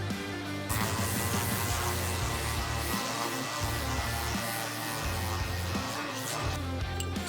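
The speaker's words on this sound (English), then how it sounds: "Now I'm gonna give this a quick rough sanding," Rough sanding of a scrap maple block, a steady whirring power sander with continuous abrasive hiss, close and uninterrupted for several seconds.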